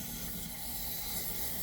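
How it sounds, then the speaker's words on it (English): Steady, close hiss of carburetor cleaner sprayed into the carburetor of a Craftsman M260 front-wheel-drive lawn mower, a continuous even spray with no break. "take some carburetor cleaner. I'm going to spray in there"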